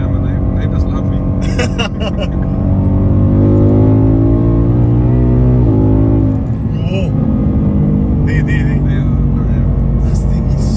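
A Ford Mustang California Special with a V8 engine revs and accelerates hard, a loud, close, continuous roar whose pitch climbs and shifts through gear changes, with bursts of exhaust crackle along the way.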